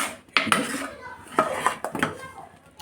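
Utensils scrape and clink against a pot while pumpkin curry with crushed coconut and cumin is stirred, giving several sharp close knocks in an irregular rhythm with no talk.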